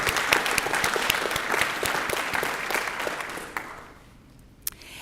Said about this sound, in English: Let's give these future scientists one more round of applause.